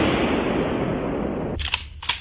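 Two sharp M16 rifle gunshots at an outdoor shooting range, the second about half a second after the first, loud and close, following a steady wash of broadband noise.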